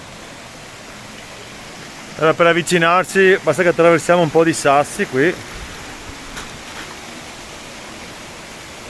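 The Cascata del Bognon waterfall in the Belluno Prealps rushes as a broad, constant roar throughout, with someone speaking briefly over it partway through.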